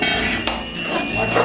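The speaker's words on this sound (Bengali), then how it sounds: "এর মধ্যে আমি এবার ভেজে রাখা পটলটা দিয়ে দিলাম।" Fried pointed gourd pieces dropped into a pan of fish curry masala, giving a loud sizzling hiss with a sharp clatter or knock partway through.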